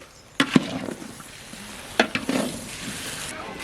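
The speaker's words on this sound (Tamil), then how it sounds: "இப்போ நல்லா கிண்டி விட்டுக்கலாம்" Potato and cauliflower stir-fry being stirred in a frying pan, with a soft steady sizzle and a few sharp scraping clacks of the spoon against the pan, heard alone without talk.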